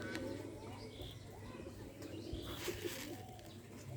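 Pigeons coo softly as they gather to feed, a faint, distant murmur of calls over quiet background noise.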